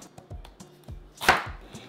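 A knife cuts through a small red cabbage on a cutting board, giving several soft, dull thuds in an uneven rhythm and one sharper, louder crunching chop near the end, close-up with no talking.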